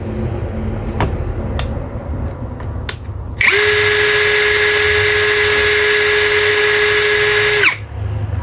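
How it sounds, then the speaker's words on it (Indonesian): A 21V cordless drill spins at its lowest speed setting during an RPM test, a steady loud whine holding for about four seconds after a few faint clicks, then cutting off sharply. "Kita tes di speed 1 terlebih dahulu."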